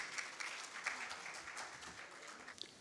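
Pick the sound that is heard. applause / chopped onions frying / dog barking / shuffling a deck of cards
applause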